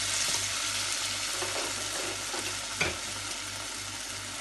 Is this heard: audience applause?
no